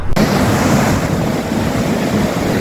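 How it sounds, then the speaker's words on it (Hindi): Fast-flowing water of the Kali River at the India–Nepal border near Dharchula, a loud, steady broadband rush that stays constant throughout with no speech. "काली नदी का क्या फ्लो है"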